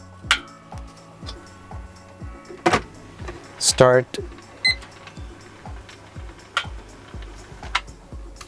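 Darkroom timer ticking at a steady, roughly one-per-second pace while a black-and-white print sits in fixer in a bedroom darkroom, with a brief spoken word and a couple of louder clicks and clunks from handling.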